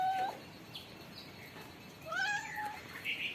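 A cat meows softly a few times, short rising and falling calls spaced apart against a quiet background.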